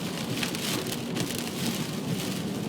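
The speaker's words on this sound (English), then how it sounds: "Now we're getting some driving wind right now, driving rain" Heavy wind-driven rain from Hurricane Sandy pounds steadily on a car, a dense, continuous roar of drops without a break and no voices.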